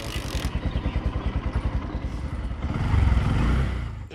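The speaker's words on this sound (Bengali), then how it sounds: "তো এটা আমার বাইক" A grandfather's motorcycle idles with a steady low chugging thump, then the engine revs up louder toward the end, heard up close with no talk.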